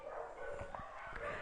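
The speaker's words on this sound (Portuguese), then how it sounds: "Cachorrada vai ficar latindo aí" Dogs bark in the distance, faint, short yips and woofs over a low background hum, with no talking.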